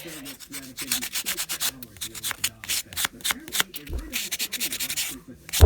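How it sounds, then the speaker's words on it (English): A 100 grit buffing block rubbed on metal to remove fire scale, giving quick, rhythmic scratchy strokes up close and fairly soft, with a faint thump near the end. "This is just like a nail buffing block. This is, I think, 100 grit maybe."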